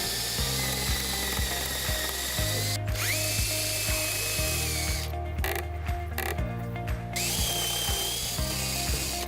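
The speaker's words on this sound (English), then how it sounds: "And then we're going to drill some holes." A power drill whirs and bites into wood, drilling holes in several bursts, pitch dropping under load between short pauses, close and loud.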